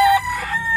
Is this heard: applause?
no